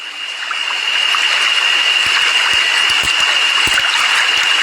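A wide jungle river flowing over flat ground, a loud steady rush of water, with a constant high insect drone and scattered close knocks or footsteps.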